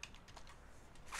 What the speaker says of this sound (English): For this example, I'm going to type